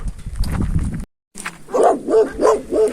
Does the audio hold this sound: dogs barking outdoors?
yes